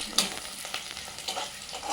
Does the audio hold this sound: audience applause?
no